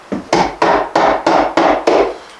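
Seven sharp wooden knocks of a hammer striking wood, evenly spaced about a third of a second apart, loud and close with no talking.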